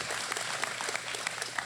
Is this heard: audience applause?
yes